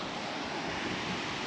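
Powerful river water in Chilean Patagonia beside the Carretera Austral rushes in a dense, steady roar, loud and unbroken throughout.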